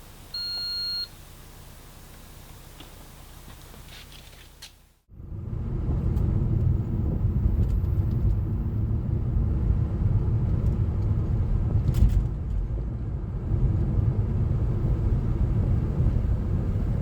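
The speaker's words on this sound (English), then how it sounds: "I've taken the car for a healthy test drive on this nice sunny day" An Alfa Romeo Giulietta QV drives on a sunny road test after a new crankshaft position sensor and air filter are fitted. A few quiet beeps come first, then a steady, loud engine and road rumble continues to the end.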